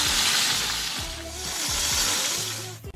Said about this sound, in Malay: Kita gorengkan ayam dan kita boleh goreng sampai dia masak.